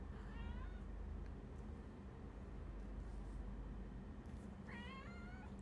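A pet cat meows twice during grooming at home, a short rising call near the start and another toward the end, over a steady loud background hiss.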